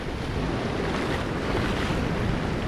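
Distant ocean surf crashes beyond shallow water, heard as a broad, continuous roar mixed with heavy wind noise on the microphone.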